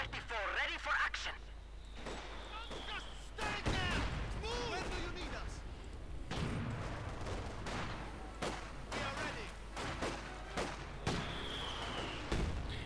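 Heavy mortar shells and gunfire from the Company of Heroes 2 battlefield, with repeated sharp blasts and booms and bursts of shooting throughout, mixed with radio-style chatter and a commentator talking over the fighting.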